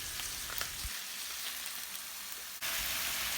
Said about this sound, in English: Here we have a griddle on our stove, which is very convenient to sear the meat.